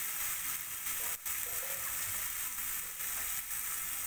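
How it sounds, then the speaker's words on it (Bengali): Spice paste with a little added water, including Kashmiri chilli, frying in a pan while cooking a Bengali bhetki and cauliflower curry; a steady, loud sizzle and hiss runs throughout with no talking. "কষানোর জন্য আমি মশলাতে একটু জল দেব।"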